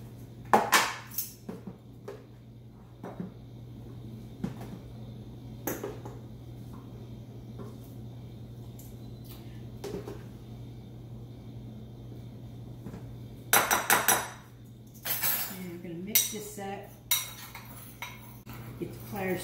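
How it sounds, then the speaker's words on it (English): A spoon stirs flour and sugar together in a bowl for a cherry cobbler, giving quiet, scattered clinks and scrapes against the bowl, with a busier cluster of clatter toward the end. "Just gonna mix it in all the flour in with a little bit of the sugar"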